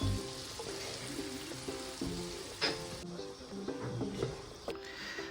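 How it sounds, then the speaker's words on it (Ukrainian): Onions frying in the same pan previously used for frying fish, a steady crackling sizzle with light stirring clinks, close and moderately loud without talk. "цю ж сковорідку, де смажилася риба, ми вкидаємо цибульку і підсмажуємо"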